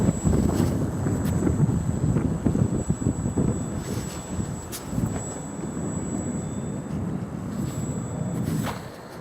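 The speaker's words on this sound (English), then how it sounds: "the wind is really having its way with it." Steady gusty wind buffets the microphone on a wintry day while a ParkZone F4U Corsair RC plane flies, a loud continuous rumble with a faint high whine running through it.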